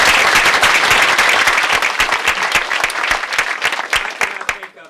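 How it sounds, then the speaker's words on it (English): Audience at a forum on the 2008 presidential election applauds John Seigenthaler, loud sustained clapping from a sizable crowd that tapers off in the final second. "first of all, give John Seigenthaler a round of applause."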